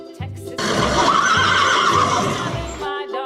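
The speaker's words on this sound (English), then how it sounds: "Horse." A horse lets out one long, loud neigh that starts rough and rises into a high whinny before trailing off into snorts, close and alone.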